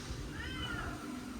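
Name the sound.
cat meowing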